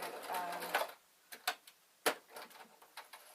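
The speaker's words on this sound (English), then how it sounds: "we know that the shoulders join up, so I'm just straight stitching" A sewing machine runs a straight stitch along the shoulder seams of a Downton Abbey style dress, a short quiet burst of whirring followed by a few soft separate clicks and taps.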